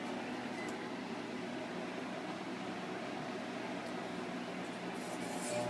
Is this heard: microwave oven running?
yes